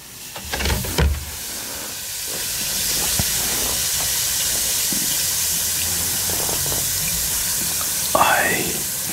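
A bath fizzer fizzes in a shallow amount of water, giving a steady close-up hiss with soft crackling and a few louder bumps and splashes at the start and near the end.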